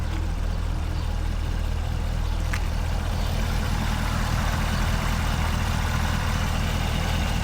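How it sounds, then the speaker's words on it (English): A Camaro ZL1 idling with its supercharger, a continuous low engine rumble with a faint steady whine on top, close and unbroken, no talking. "Supercharger sounds louder though."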